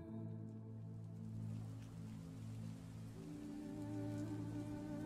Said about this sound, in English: you guys start to hear the raindrops and the thunder outside as it begins to rain